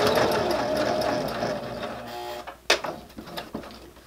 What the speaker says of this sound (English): I'm going to flip it and sew it one more time.